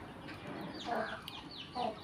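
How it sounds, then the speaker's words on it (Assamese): A crow caws outdoors twice at moderate distance, two short harsh calls separated by a pause over a quiet background. "কাউৰীয়ে মাতিছে মানে আৰু চাগে পকা কঁঠাল আছে তাত।"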